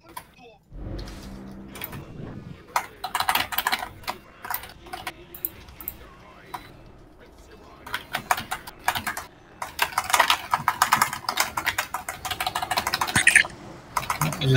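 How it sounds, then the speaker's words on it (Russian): Loud, rapid clattering on a computer keyboard during an online game session, fast clicks in dense bursts heard up close, with people talking over it. "Это кто там клавиатуру ломает?"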